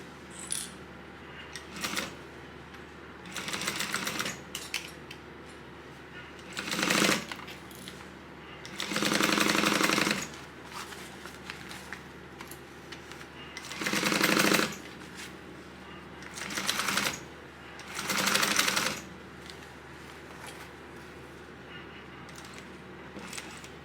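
Sewing machine stitching a quarter-inch seam on a tote bag, several short bursts of rapid stitching separated by pauses, close by, with quiet handling noise and a voice talking in between.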